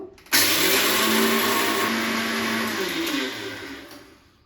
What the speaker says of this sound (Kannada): ಇದನ್ನ ಹೋಗಿ ನಾನು ಸ್ವಲ್ಪ ಮಿಕ್ಸಿ ಮಾಡ್ಕೊಂಬರ್ತೀನಿ